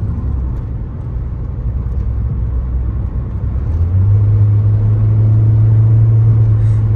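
A Scion xB with a small 1.5-litre four-cylinder engine and a transmission fault drives along, its engine note dropping as it shifts, then settling into a steadier, louder drone. No one speaks.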